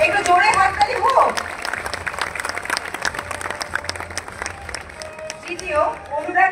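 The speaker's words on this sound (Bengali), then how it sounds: "একটু জোরে হাততালি হোক" An audience at a Kolkata Police Day event claps in a dense, steady round of applause, with a voice speaking over the start and end.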